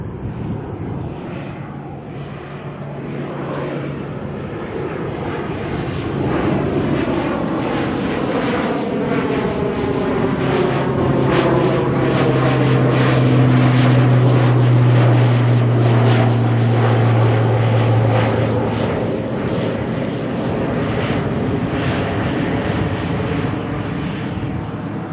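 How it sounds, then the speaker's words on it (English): ATR turboprop airliner departing for New Plymouth from Auckland airport, a sustained droning propeller roar that swells in loudness and then holds steady, heard from a distance with a slowly shifting pitch. "here goes the ATR to New Plymouth"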